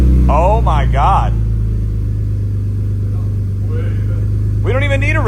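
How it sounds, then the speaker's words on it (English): BMW E46 wagon running with no resonator, its engine idling just after starting with a steady low rumble beneath people talking close by. "Obviously let it warm up. Don't rev it, but we'll let it warm up for a second."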